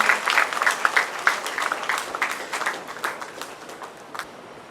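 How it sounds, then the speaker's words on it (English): At a Diwali festival event, an audience applauds prize-winning participants called to the stage, a moderate, somewhat distant round of clapping with distinct individual claps that gradually thins out. "Give them a big round of applause."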